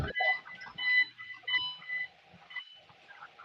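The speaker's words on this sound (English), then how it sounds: "There is a beep sound coming in the background." Repeated electronic beeping in the background, like a large truck reversing, sounding as a series of short, fairly faint tones in a steady rhythm.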